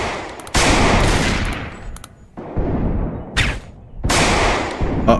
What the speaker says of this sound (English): Looks like Rebecca got shot.